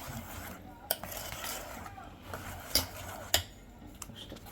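A spoon or fork stirs and scrapes through a beaten egg mixture with pepper powder in a bowl for a breadcrumb omelette, giving a steady close-up swishing with a few sharp clinks against the bowl.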